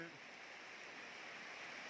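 Steady rain falls in a continuous, even hiss on surfaces at a fair distance, quiet and unbroken.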